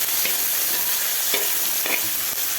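Jackfruit puzhukku curry is stirred in a hot pan over spluttered mustard seeds, giving a steady sizzle with a few distinct scraping stirs, close and without any speech.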